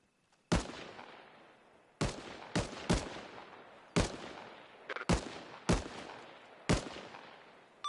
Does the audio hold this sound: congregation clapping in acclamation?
no